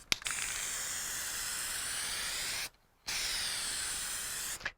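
A spray nozzle hisses steadily onto a tuna tail trophy, sounding as two long, even bursts separated by a short pause, close and fairly quiet.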